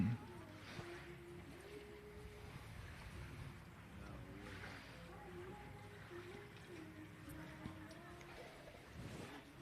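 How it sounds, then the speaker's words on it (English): Wake surf boat powering up with throttles down during a wake surfing competition final, a steady low engine drone and water rush with wind noise across the microphone, continuous and moderately distant. "as that rope pulls tight, the throttles go down, and Juju Davis gets up."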